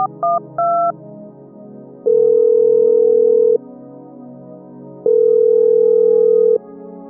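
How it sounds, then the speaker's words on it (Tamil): A phone dials a few quick keypad tones, then two long, steady ringback tones sound with a pause between them, loud and clear with no talking. "நம்மால் எங்க இருக்கான்னு ஃபோன் பண்ணி பார்ப்போம்"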